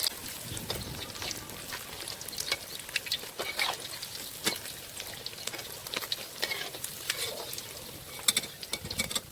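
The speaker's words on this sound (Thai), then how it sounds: "ตอนนี้ปลานินของเราก็ทอดเหลืองกรอบได้ที่แล้วนะครับผม" Tilapia frying in hot oil, a dense steady crackle and spatter with sharper pops scattered throughout, close by and with no one talking.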